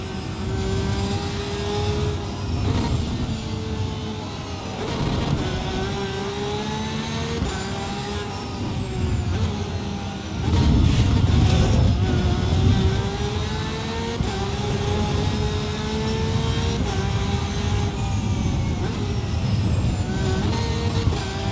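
A race car in the Assetto Corsa sim races hard during an overtake, its engine droning and revving through rising and falling pitch sweeps, getting louder partway through, with no voices.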